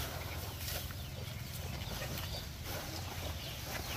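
Chickens cluck softly and steadily while pecking at corn husks, a dense low flock murmur over an outdoor farmyard background with no talk.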